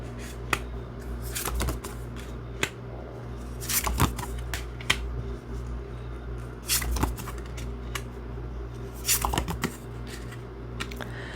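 Tarot cards shuffled and laid out during a reading, crisp riffling bursts and soft taps recurring every couple of seconds at close range, quiet between, with a faint low hum underneath.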